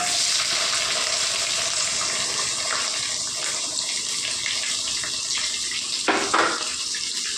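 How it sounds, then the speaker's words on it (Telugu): Thinly sliced onions fry for jeera rice in a pan, a loud, steady, watery sizzle throughout, with a brief stirring scrape near the end. "ఉల్లిపాయలు చూడండి ఉల్లిపాయలు కొద్దిగా ఏగాయి కదండి"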